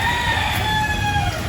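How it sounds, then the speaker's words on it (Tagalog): A large native hen of a fighting-cock breed clucks and crows loudly and close, with a steady harmonic call held over a short stretch and no voices. "Inahin pong manok, ayan, may lahing igunhan eh."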